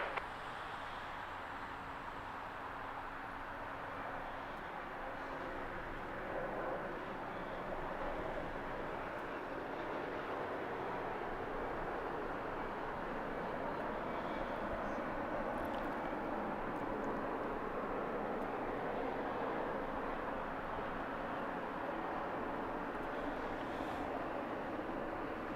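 An airliner taking off on runway 25 right at LAX, heard as a steady, broad jet roar held for a long stretch, moderately distant and even in level, with no voices over it.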